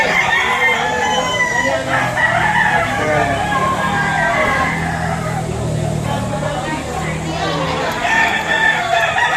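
A rooster crows amid the steady din of a busy chicken market in Lipa, Batangas, with other fowl clucking and people talking throughout.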